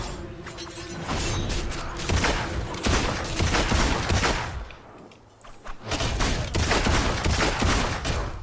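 Rapid bursts of gunfire from enemies in the video game Fable II crackle in dense volleys, loud and close, with a brief lull before another fusillade resumes.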